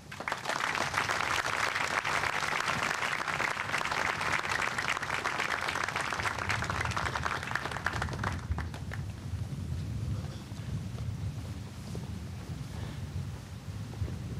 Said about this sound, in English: Please join us in a big round of applause